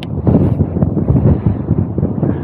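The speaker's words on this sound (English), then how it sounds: "It's extremely windy here." Strong wind buffets the microphone on a hilltop at Badger Mountain during a Himiway e-bike ride, a loud, continuous low rumble with gusty surges throughout.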